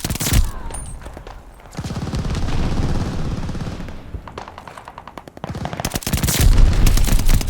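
STG-44 assault rifle fire in the Call of Duty: Vanguard video game: loud rapid automatic bursts crackling through a busy firefight, with other guns firing around it and brief lulls between volleys.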